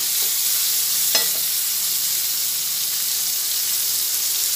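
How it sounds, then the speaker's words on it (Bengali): Ginger and chopped tomato sizzle together in a hot pan, a steady close hiss of frying with a single sharp utensil scrape near the start. "আর একই সঙ্গে আমি একটা বড় টমেটো রেখেছি কুচিয়ে, সেই টমেটোটাও দিয়ে দিলাম। সবই এরপরে একসঙ্গে ভেজে নিচ্ছি।"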